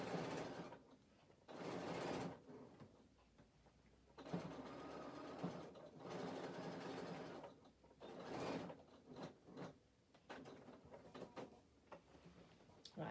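A sewing machine stitches a fabric storage bag in several whirring bursts of a few seconds each, separated by pauses with soft handling noises.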